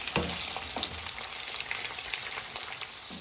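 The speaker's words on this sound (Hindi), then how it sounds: "अब मैं इसमें ये भिंडी फ्राई करूँगी।" Okra, also called lady fingers or bhindi, fries in hot cooking oil with a steady, dense sizzle and crackle that carries on without a break and stays fairly loud and close throughout.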